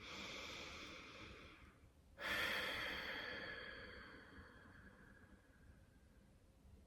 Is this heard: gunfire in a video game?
no